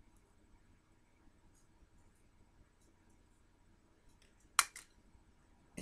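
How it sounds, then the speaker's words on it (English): A couple of quick scissor snips close by, cutting through rose-gold-painted dollar-store chain links, sharp and brief, after near silence with faint rustling. "And cut straight through the middle."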